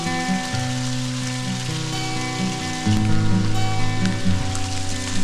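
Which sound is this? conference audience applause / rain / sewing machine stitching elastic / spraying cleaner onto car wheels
rain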